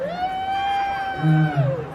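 At a Thai mini concert in Korat, fans let out a long, high-pitched scream that rises over a lower crowd murmur and cheering.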